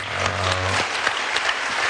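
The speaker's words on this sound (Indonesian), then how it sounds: "Tepuk tangan, boleh tepuk tangan" A studio audience at a televised political debate applauds in a steady, dense wash of clapping that runs the whole time, with a faint low hum beneath at the start.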